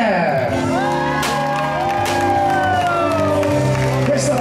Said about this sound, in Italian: Tutti gli applausi sono per lei, Chantal!